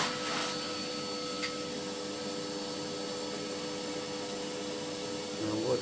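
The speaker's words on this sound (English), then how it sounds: "just hoover it off first" A vacuum cleaner hoovers a cast iron 5 kW wood burning stove around its inspection hatch, giving a steady, unbroken motor drone at moderate volume for the whole stretch, with a couple of brief knocks near the start and end.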